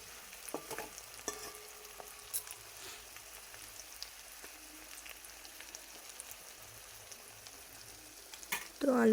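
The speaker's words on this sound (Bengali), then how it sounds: "আলুটাকে ভালো করে ভেজে নেব উল্টে পাল্টে।" Potatoes fry with turmeric in a pan for a vegetarian dish, giving a soft, constant sizzle with scattered scraping clicks as they are stirred and turned. It is quiet and close, and a voice briefly begins right at the end.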